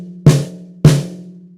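A snare drum with loose wires and its top head tuned for maximum resonance, struck twice about half a second apart, each hit a sharp crack followed by a ringing, humming tone that decays slowly.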